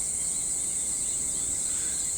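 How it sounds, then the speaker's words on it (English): Cicadas in a forest produce a steady, dense high-pitched buzz that holds constant and fairly loud throughout, with no other distinct sounds. "all you can hear is cicadas."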